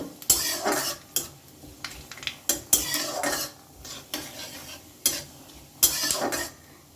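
Black cumin (kalonji) seeds and two dried red chillies fry briefly in a pan for a red lentil (masoor dal) chachchari. A spoon scrapes and clatters against the pan in sharp bursts over a soft, steady sizzle, close and fairly loud, with no talking.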